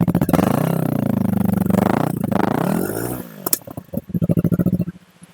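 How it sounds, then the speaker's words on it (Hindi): A 2025 Yamaha R3 motorcycle's exhaust after starting, a loud close engine rumble that rises in revs, drops, then returns as a choppy, pulsing idle. "तो कुछ ऐसा इसका एग्जॉस्ट का साउंड है जो बहुत ही शानदार था।"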